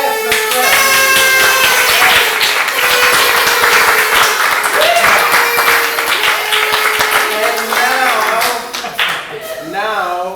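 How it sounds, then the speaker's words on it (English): A church audience claps together during a dramatised Bible story about King Solomon's kingdom, with loud, dense clapping that runs throughout and voices mixed in over it. "Let's clap"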